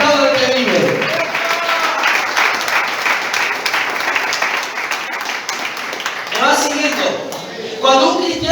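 A church congregation bursts into loud, sustained applause and clapping during a Spanish-language sermon, with voices rising over the clapping at the start and end.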